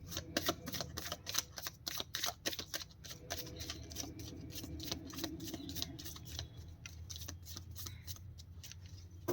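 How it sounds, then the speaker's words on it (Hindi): Tarot cards being shuffled by hand, with a long run of quick, crisp riffling flicks and soft slaps, close and quiet, with no voice. "This is my last shuffle."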